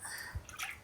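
Water pours from a glass into a pot of rice for prawn biryani, a brief splashing trickle at moderate distance, faint and without talk.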